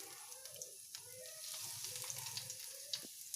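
Breadcrumb-coated soya cutlets fry in oil on a tawa, giving a faint, steady sizzle with light crackles and no talking.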